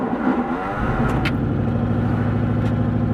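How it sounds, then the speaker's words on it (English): A car engine cranks and catches after the battery has been charged, the faulty starter giving way to a steady, loud mid-pitched idle that continues with a strange noise throughout. "this is the moment where the car does not start after I charge the battery"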